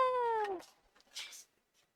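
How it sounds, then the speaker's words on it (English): A cat gives one clear, fairly loud meow with a falling pitch, followed by a brief softer rustle and a faint hiss of noise, with no talking. "Kitty cat."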